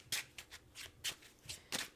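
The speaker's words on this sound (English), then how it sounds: "So I'm just going to shuffle these and pull some cards to clarify" Tarot cards shuffled by hand in a quiet room, a series of crisp papery riffles and slaps in uneven bursts, close and fairly soft, with no talking.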